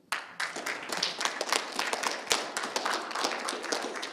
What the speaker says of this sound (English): So an applause for all of you.